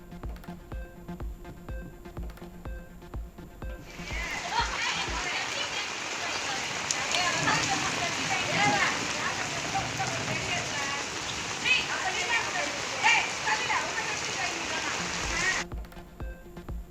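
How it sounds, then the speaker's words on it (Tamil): Heavy rain pours down during a downpour in Madurai, a dense, steady hiss that begins after about four seconds and keeps up for roughly twelve before cutting off, with a voice faintly present. "மதுரையில் வெளுத்து வாங்கிய கனமழையால் மக்கள் அவதி"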